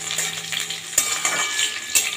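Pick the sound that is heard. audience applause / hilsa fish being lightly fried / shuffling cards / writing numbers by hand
hilsa fish being lightly fried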